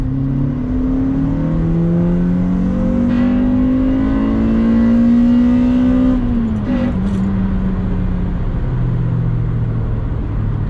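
An EP3 Honda Civic Type R fitted with a K&N Typhoon intake accelerates hard from inside the cabin, the engine note climbing steadily before dropping at a gear change and building again, loud and continuous.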